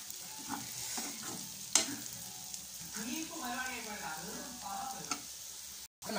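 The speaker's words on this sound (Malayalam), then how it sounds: "അപ്പോൾ നമ്മുടെ ഡ്രൈ ഫ്രൈ റെഡി ആയിക്കൊണ്ടിരിക്കുകയാണ്" Cauliflower pepper dry fry sizzles steadily in a pan while a utensil stirs and scrapes through it, with a few sharper clinks, close and continuous, and no talk.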